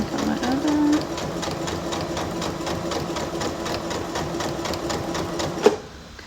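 A sewing machine stitches a wreath sash in a fast, even run of needle strokes, steady and close, then stops abruptly just before the end.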